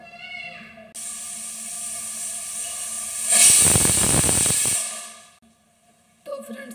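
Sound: pressure cooker whistling and releasing steam while cooking matar pulao

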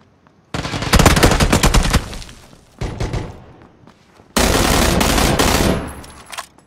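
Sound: gunfire in the video game PUBG

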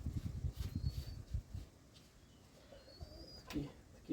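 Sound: wood pigeon cooing near its chicks

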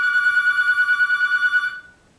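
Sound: phone ringing

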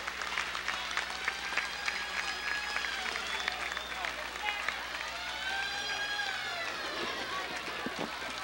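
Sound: applause at a Jeep parade

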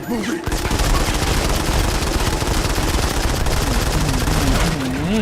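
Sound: gunfire in the video game Modern Combat 5

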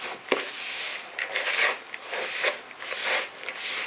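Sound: mixing knödel dough with potato by hand

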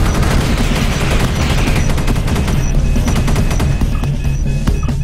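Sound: gunfire in video game Space Beast Terror Fright

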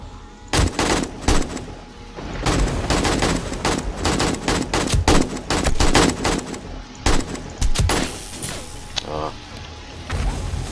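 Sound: explosion of a detonating zombie in 7 Days to Die video game

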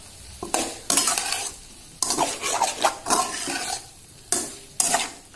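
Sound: chicken frying and being stirred in pan

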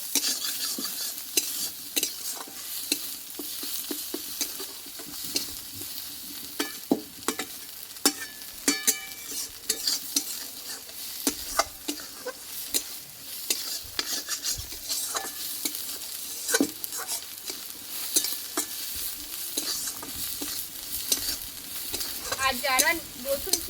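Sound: curry leaf paste frying and being stirred in a pan

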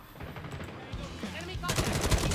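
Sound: gunfire in the video game Call of Duty Mobile

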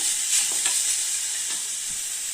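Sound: coconut being roasted in a pan

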